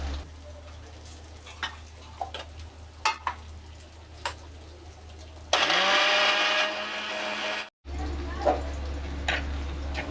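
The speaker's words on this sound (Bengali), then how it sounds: "রসুন, লঙ্কা, আদা একসঙ্গে মিক্সিতে আমি বেটে নেব।" A mixer grinder whirs loudly for about two seconds as it grinds garlic, green chili and ginger together for a gila tengri dish. It cuts out briefly and then runs again, after quieter kitchen clatter.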